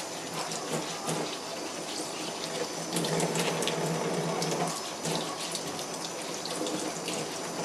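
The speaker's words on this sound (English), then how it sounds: "I put the water on as little as I need to get the job done." Kitchen tap water runs at a low, steady flow while vegetables are rinsed for a pressure-cooker stew, a continuous close splashing with slight shifts as items pass under it, no talk.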